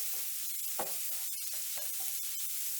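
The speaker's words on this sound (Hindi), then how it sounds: "और इसको हम ज़्यादा फ्राई नहीं करेंगे।" Chicken filling with small capsicum cubes frying briefly in a pan, a soft even sizzle with occasional scrapes and taps of a spoon stirring, no talking.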